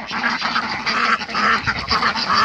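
A flock of ducks quacks continuously and loudly, overlapping calls forming a dense, raucous chorus close by with no talk.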